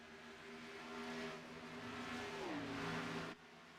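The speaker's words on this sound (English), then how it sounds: "listen to the amazing noise of these cars" Race cars in the ANZCAR Cup at Homestead accelerate around the track, engine notes rising and shifting pitch as they run, heard at moderate distance and fairly quiet with no commentary.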